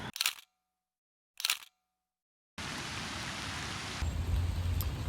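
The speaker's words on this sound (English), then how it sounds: "Rain again." Steady rain in a park in Seville, a dense, even hiss that starts suddenly after two brief camera shutter clicks and continues alone, close and fairly loud.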